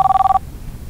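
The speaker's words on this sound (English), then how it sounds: "answer the phone" A telephone rings with a loud, close electronic trill, rapid warbling pulses that stop abruptly partway through, leaving a quiet room.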